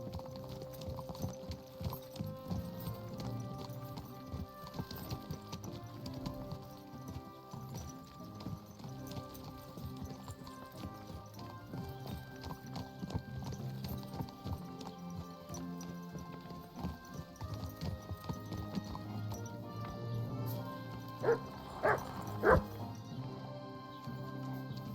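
Steady clip-clop of horse hooves under background music in the video game Kingdom Come: Deliverance II, continuing at an even walking pace with a few brighter tones near the end.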